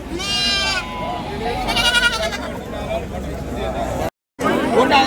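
Sheep lambs bleat repeatedly at a busy livestock goat market in Tiruppattur district, Tamil Nadu, their wavering cries rising close over a murmur of crowd chatter and voices, with a brief dropout near the end.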